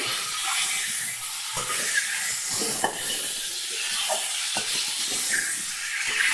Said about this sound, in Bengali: দেখো আমি ভালো করে ভাজা করে নিচ্ছি